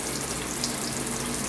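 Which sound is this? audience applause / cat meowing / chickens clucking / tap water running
tap water running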